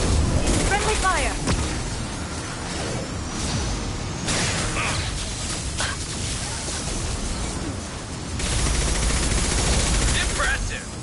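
Gunfire in the video game Mass Effect 2 crackles in repeated bursts and single shots over a continuous battle din, with louder volleys near the start and end. Characters talk intermittently through the fighting.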